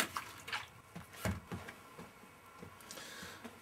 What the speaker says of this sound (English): if your water is going to freeze, dump it out